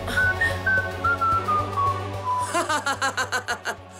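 Someone whistles a short wavering tune of sliding notes, then switches to a quick run of rapid, choppy pulses, all fairly close and clear.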